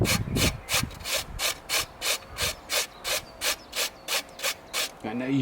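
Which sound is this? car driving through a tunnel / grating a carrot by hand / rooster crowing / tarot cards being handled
grating a carrot by hand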